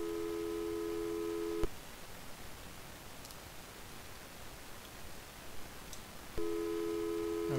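A steady electronic phone-line tone from the Commodore 64 game Impossible Mission sounds briefly, breaks into hissing static, then returns at the end.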